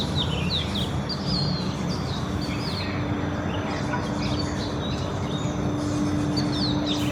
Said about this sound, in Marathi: चिमण्यांचा चिवचिवाट.